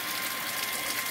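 Water pump motor filling a blue drum, a steady rushing, gushing stream with constant hiss, loud and unbroken for the whole short stretch.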